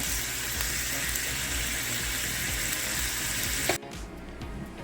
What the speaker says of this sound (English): sizzling in the pan with some onion and some seasonings.